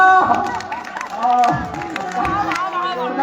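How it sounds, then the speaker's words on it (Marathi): Audience at a Marathi devotional kirtan-style sermon clapping along with loud crowd noise and cheering voices, a continuous dense clatter of hands mixed with shouting throughout. "दोन किलोमीटर टाळ्या वाजवा"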